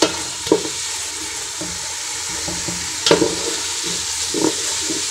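Ginger garlic paste sizzles in a hot pan while chicken pulao is cooked, with a few sharp stirring clinks and scrapes at intervals over the steady frying hiss.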